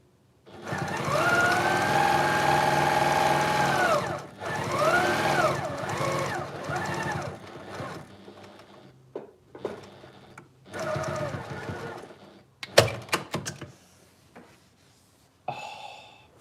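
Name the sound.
sewing machine stitching a storage pod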